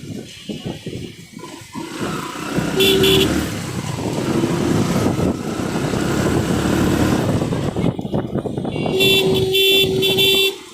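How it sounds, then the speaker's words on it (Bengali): Busy city traffic surrounds a rider near TSC in Dhaka: engines drone steadily from cars and motorcycles, several horns toot in short bursts, and a rumbling hum fills the scene throughout. "এমন একটা জায়গা, মানে সব দিক দিয়ে গাড়ি আছে"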